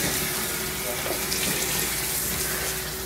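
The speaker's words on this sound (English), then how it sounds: "Rinse my arms here and stuff." Steady running water from a tap pours continuously as arms are rinsed under it, close and fairly loud with a faint hum beneath, no talking.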